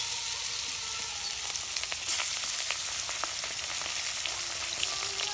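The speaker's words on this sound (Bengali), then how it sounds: "আমি একদম কড়া করে ভাজা নিব তেলে দিয়ে মস মশা করে" Hilsa fish fries crisply in oil with a bright, continuous sizzle full of small crackling pops, close and steady throughout, no talking.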